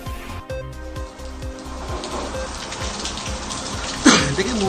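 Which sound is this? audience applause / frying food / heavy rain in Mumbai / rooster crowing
heavy rain in Mumbai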